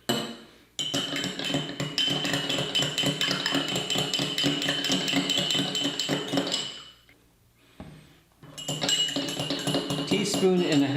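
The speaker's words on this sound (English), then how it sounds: "Now I'm gonna put the same amount of coffee in each one." Instant coffee spooned into cups in a home kitchen, a dense run of metallic clinks and scrapes of a teaspoon against ceramic, with a short pause and then more clinking.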